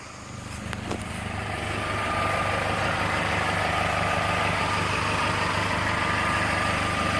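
A 1998 Toyota Celica GT engine idles under the open hood, a steady close-up drone with a low rumble and fine mechanical whir that rises slightly after a couple of seconds and then holds even.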